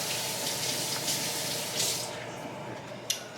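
Hands are washed under a running kitchen tap, a steady close hiss of water with splashing shifts as the hands move through the stream, ending with a small knock.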